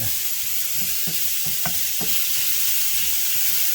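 Garlic and mushrooms sizzle steadily in a hot pan while a utensil stirs and scrapes a few times, close and continuous with no voices.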